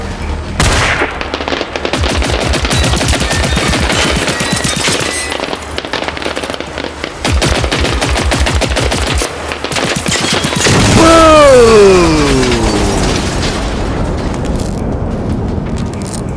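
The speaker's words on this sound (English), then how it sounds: "That's why I love, above all, fireworks." Fireworks in the video game Generation Zero, a long loud barrage of rapid crackling bursts and bangs, with a descending whistling streak near the end before it settles into steady rumbling.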